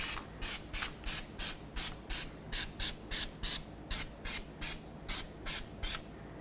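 Anti-seize sprayed onto the front wheel hub of a 2007-14 Chevy Silverado during a brake job, about fifteen short, even hissing bursts in a steady rhythm, close by.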